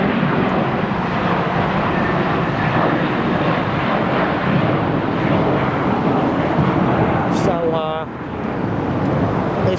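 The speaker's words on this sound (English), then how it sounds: "There's another plane." Jet airliner roaring steadily as it takes off or lands at LAX airport in Los Angeles, loud and continuous broadband rumble throughout, with a brief chirping sound near the end.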